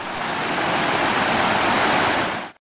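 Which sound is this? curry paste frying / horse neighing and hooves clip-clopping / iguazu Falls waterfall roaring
iguazu Falls waterfall roaring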